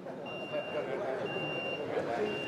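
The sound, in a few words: vehicle reversing beeps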